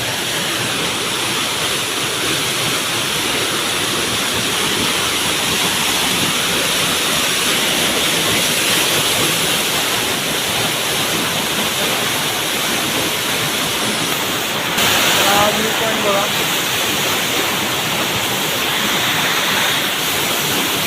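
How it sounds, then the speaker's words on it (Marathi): A waterfall at Pavankhind pours from a great height, producing a loud, constant broadband roar and rush of water that holds steady the whole time, with a brief surge of spray noise partway through. "पाणी खूप उंचावरनं पण पडते इथं."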